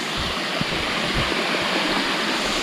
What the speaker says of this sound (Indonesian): Dan ini ya air terjunnya.